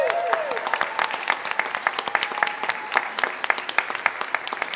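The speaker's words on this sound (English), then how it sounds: "Let's give them a big round of applause" An audience applauds a middle school jazz band at a state education committee meeting, a dense patter of many hands clapping steadily throughout at moderate distance, with a faint voice over the top near the start.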